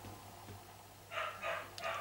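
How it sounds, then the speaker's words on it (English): A dog indoors barks three times in quick succession, moderately distant and fairly faint, over a low hum. "That's the dog barking."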